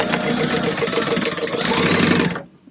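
A sewing machine stitches a folded cotton fabric tab in a fast, even mechanical whir with rapid needle ticks, running loud and steady for about two and a half seconds before it stops abruptly.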